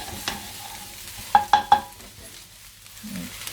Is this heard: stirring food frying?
yes